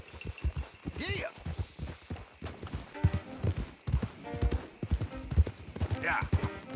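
Horse hooves clip-clop at a steady walking rhythm in Red Dead Redemption 2, close and clear, with voices talking over them and a brief whinny.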